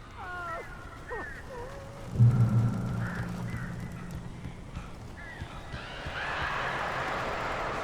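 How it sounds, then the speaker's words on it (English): Birds attack inside a building in the video game Alan Wake Remastered: shrill, wavering bird cries in the opening seconds, then a low rumble, scattered flutters and a rising hiss of game ambience, with no speech. "These birds are weird."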